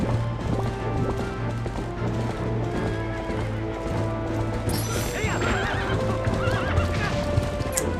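Horse neighing and hoofbeats galloping in Zelda: Twilight Princess HD, loud steady clip-clop running throughout with whinnies over game music and effects.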